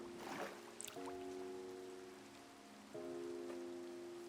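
Rain patters steadily in the video game Minecraft, a soft, even hiss under sustained tonal game music.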